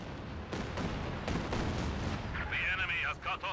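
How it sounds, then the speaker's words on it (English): Katyusha rocket artillery firing in a Soviet-versus-Wehrmacht real-time strategy game: a string of rumbling blasts and whooshes in the first two seconds, then a whistling rocket tone, with a commentator talking over it. "Katyusha coming back in again."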